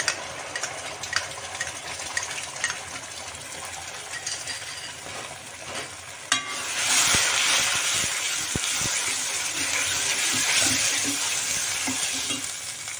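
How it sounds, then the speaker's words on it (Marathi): Masala fries in a pan with roasted onion, grated coconut, cumin and garlic, hissing and sizzling that grows louder partway through as the spoon knocks the pan a few times. Close and continuous, no talking. "आपला मसाला अगदी व्यवस्थित तळला गेला आहे."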